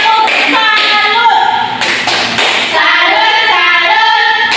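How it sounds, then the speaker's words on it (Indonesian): Students in a classroom clap in short rhythmic bursts of patterned applause, loud and close, with brief pauses between the groups of claps. "Tepuk tangan dulu untuk kalian."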